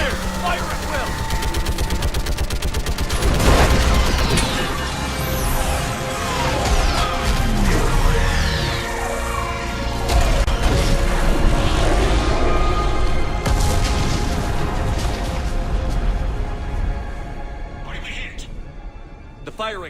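A chaotic Mass Effect battle against a live Reaper plays out loud and close, with crashing impacts, whooshes and rumbling blasts under an orbital strike, and voices talking over the din throughout.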